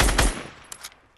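In Fortnite, gunfire opens with a loud burst of rapid shots that quickly drop off, leaving a few faint sharp pops trailing behind.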